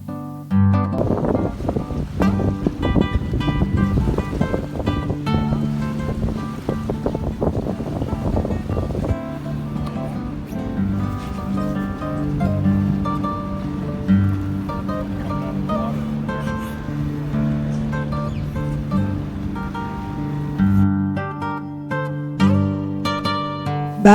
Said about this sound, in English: I can go to sleep lulled by the undulating waves.